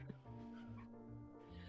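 A dog whimpers and yips in short, high-pitched whines close by inside a home, over a steady background hum, with no one speaking.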